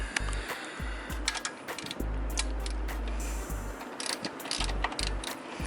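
A socket wrench ratchets in short bursts of close clicking on the bolts of a bypass valve on a 2002 Subaru WRX wagon, alternating with lower mechanical rattles and no talking.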